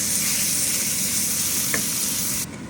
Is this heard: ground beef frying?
yes